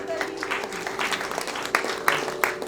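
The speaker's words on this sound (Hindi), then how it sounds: "जोरदार तालियां" Applause from an audience at a book release ceremony, a brief burst of clapping with a few sharp louder claps, mixed with voices in the room.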